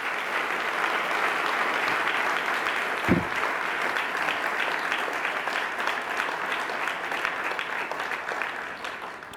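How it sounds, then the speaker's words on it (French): Sustained audience applause fills the room at an awards ceremony, a dense steady wash of many hands clapping for several seconds before easing slightly toward the end. "Je pense que ça prend une bonne main d'applaudissements."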